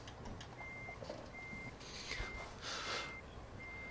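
Reversing beeps from a truck in American Truck Simulator sound as a steady series of short, evenly spaced electronic tones, with a low engine rumble and bursts of air hiss in between.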